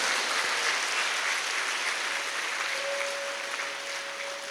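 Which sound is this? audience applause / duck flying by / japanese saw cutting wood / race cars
audience applause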